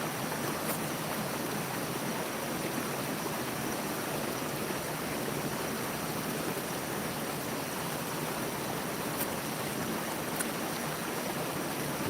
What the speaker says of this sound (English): The river is so hypnotic.